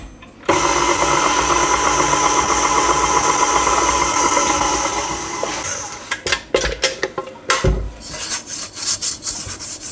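A KitchenAid stand mixer kneading naan bread dough, a steady loud whirring motor hum for several seconds, then slowing into irregular knocks and scrapes as the bowl side is scraped down.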